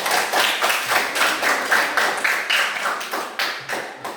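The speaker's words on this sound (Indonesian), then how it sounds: "Tepuk tangan dulu untuk kelompok" Applause for a student group during a classroom session on artificial intelligence, made up of sharp, rhythmic clapping in fairly even beats, as if a few people clap in unison, close and distinct without talk.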